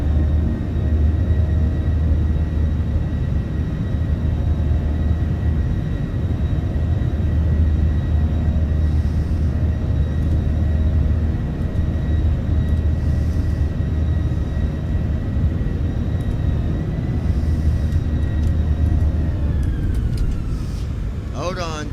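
Aircraft engines spool up to takeoff thrust in a steady, loud, continuous roar with sustained tonal whine, heard from inside the cabin or cockpit throughout.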